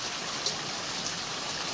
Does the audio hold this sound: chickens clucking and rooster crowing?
no